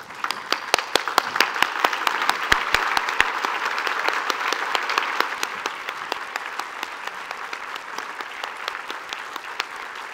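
An audience at a faculty and staff convocation applauds new faculty and staff as they stand, a steady wash of clapping with distinct close hand claps, tapering slightly toward the end.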